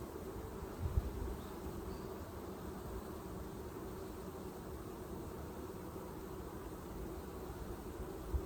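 Honeybees drone continuously around an open hive during installation of Saskatraz queens, a steady close hum with a couple of sharp knocks from frames or equipment.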